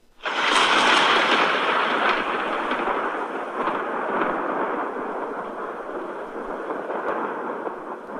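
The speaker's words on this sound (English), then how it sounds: "he could hear a loud crackle of thunder in the sky" Loud rolling thunder swells in suddenly and rumbles on steadily with a broad roaring wash, slowly easing but never fully fading.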